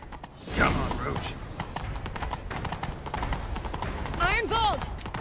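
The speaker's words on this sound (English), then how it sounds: "Grab a horse, we'll chase him down." Horse hooves clip-clopping at speed in The Witcher 3, a steady drumming of hoofbeats with a whinny near the end, under voices talking and calling out.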